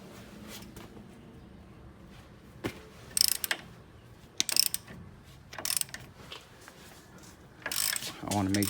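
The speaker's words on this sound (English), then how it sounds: "So I'm about to go ahead and wrench it off." A hand wrench works a bolt loose during a 6-inch lift kit install, producing faint scattered ratcheting clicks and short metallic bursts amid quiet background, with no clear talking.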